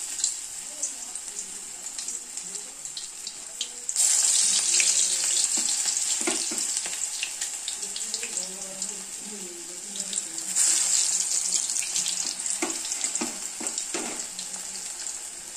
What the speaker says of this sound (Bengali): কড়াইয়ে তেল আমার গরম হয়ে গেছে, এবার আমি গরম গরম পকোড়া ভেজে নেব।